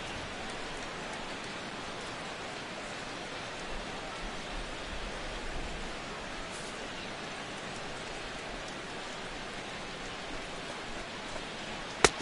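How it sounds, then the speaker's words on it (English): Heavy rain pours down steadily at a baseball game in MLB The Show 16, with the Detroit Tigers playing the New York Yankees, making a constant dense hiss that runs alone throughout with a brief tick at the very end. "this rain is definitely complicating matters out there. It's really coming down over the past 5 minutes or so."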